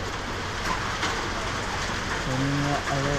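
Steady rain falling during hot weather, a dense continuous hiss with a few faint tonal sounds near the end.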